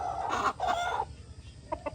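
A chicken at a poultry market clucks loudly and close by in two agitated bursts, followed by a couple of short, sharp clucks over a low background murmur.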